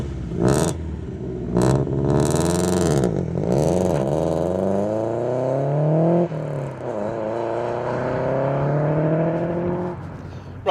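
Subaru Impreza P1 with a tuned 375-horsepower engine driving, revs climbing and dropping through repeated gear changes, loud and close from the cabin, with a few sharp clatters early on and no talk.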